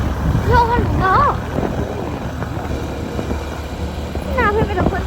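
Strong wind buffets a phone microphone on a hill road near Okhaldhunga, Nepal, making a loud, steady rumble that fills the whole stretch, with voices rising and falling over it.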